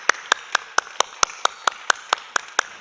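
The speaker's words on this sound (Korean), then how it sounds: "우리 박수 한번 우리 응원해 줍시다" A church youth service congregation clapping together, a single steady rhythm of about eleven sharp, evenly spaced claps, fairly close and clear with no talk over them.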